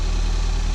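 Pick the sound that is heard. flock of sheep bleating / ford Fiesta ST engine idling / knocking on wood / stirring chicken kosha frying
ford Fiesta ST engine idling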